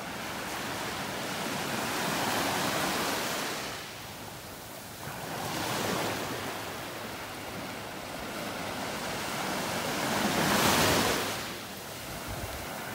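Ocean waves break on a beach in North Naples, Florida, with three distinct surges of rushing surf swelling and fading over a steady wash, mixed with some wind noise and no talking.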